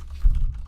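Someone types on a Roccat Ryos MK FX mechanical keyboard with Cherry MX Brown switches. The result is a short burst of soft, muffled keystrokes close to the microphone, with no talking.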